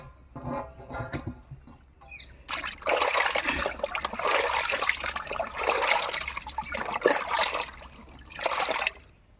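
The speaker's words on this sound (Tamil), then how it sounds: "உப்பு தண்ணியில் போட்டு அலசுகிறோம்." Food being swished and rinsed by hand in salt water, with sloshing, trickling and splashing that starts sparse then turns busy and continuous, close and clear with no talking.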